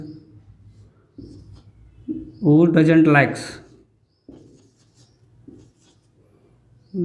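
A teacher writes on a board during a class 9 probability maths lecture: soft scratchy strokes come in short bursts, with a brief voiced sound in the middle.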